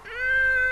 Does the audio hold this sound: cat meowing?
yes